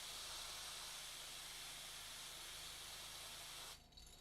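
Airbrush spraying paint onto a miniature: a steady, fairly faint hiss that continues evenly for several seconds, then cuts off abruptly near the end.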